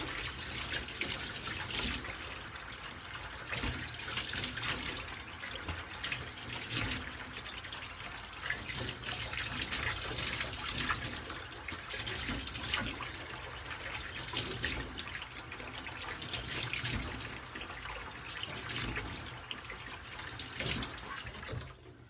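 Steady running water from a tap while shave cream is rinsed off after a shave, a continuous close hiss and splash with no talk.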